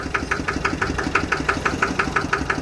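The 11-horsepower engine of a small farm vehicle built on a Mazda chassis idles with a fast, regular knocking chug, loud and close, each beat evenly spaced and steady throughout.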